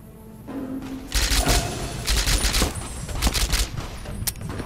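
Rapid bursts of silenced SMG fire in a video game, loud clustered shots in quick repeated volleys with thumping impacts, heard alone without talk.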